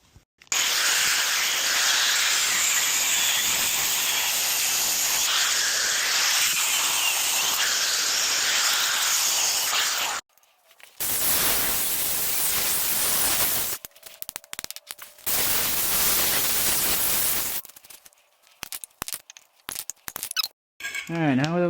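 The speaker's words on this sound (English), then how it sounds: "I'm gonna just chop that one with the grinder" An angle grinder cuts through a stuck U-joint on a 1962 Chevy Biscayne, a loud continuous hissing whine for about ten seconds, then resuming in several shorter bursts separated by pauses.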